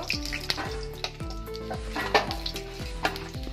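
Bori lentil dumplings frying in hot oil, a close, lively sizzle punctuated by repeated scraping and clinking of a utensil stirring in the pan, with no talk.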